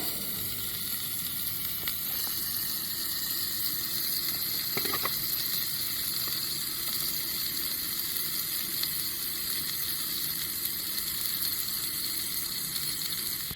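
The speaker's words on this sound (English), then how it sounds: "So we're gonna go ahead and fry up all 4 of them." Four hamburger patties fry in a pan with a steady, close, even sizzle that runs unbroken throughout, a faint scrape or stir near the middle and no talking.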